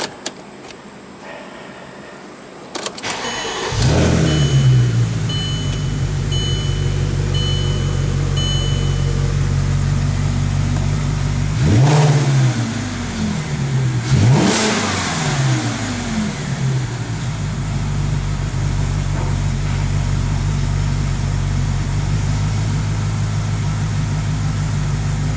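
A 2003 VW Passat W8 4.0 engine cranks and fires with a loud roar, then holds a steady, strong idle, with a couple of brief revs partway through before settling again.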